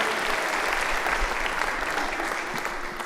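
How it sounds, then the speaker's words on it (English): A comedy show crowd gives Mary a big round of applause, a continuous, even burst of many hands clapping at steady moderate loudness with faint chatter beneath. "Give Mary a big round of applause."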